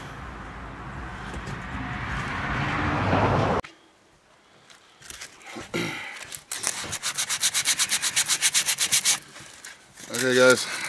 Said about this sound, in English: we'll start sanding it